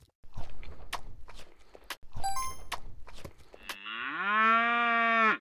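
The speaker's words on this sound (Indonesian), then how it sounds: "Perkenalkan, Molly si sapi." Cartoon cow mooing once in a long, loud, drawn-out low call, after a run of soft thuds and chewing-like sounds from the animated farm scene.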